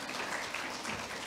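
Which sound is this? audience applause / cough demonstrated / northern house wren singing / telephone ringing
audience applause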